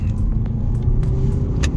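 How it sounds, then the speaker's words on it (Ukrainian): Lexus UX 250h AWD hybrid crossover from 2020 accelerating hard in sport mode, a steady loud engine and road rumble with a few light clicks, heard from inside the cabin. "Але цікаво, що зараз буде подивитися, як вона стартує від 1 до сотні. Ну що ж, спробуємо спорт режимі."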